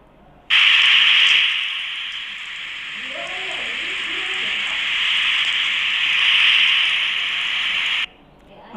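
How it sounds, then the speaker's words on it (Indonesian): A waterfall roars as a loud, steady rush of broadband water noise that starts abruptly, holds evenly for about seven and a half seconds, then cuts off. "Oke, itu suara air terjun"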